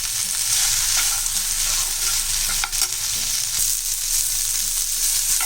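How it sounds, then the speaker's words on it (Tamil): Small-cut coconut pieces sautéing in a pan for tomato mint chutney, a loud continuous sizzle with stirring scrapes, one brief dip midway. "ஒரு 3 சில் தேங்காய் இதை நல்லா சின்ன சின்னதாக கட் பண்ணி இதையும் போட்டு நல்லா வதக்கிடலாம்"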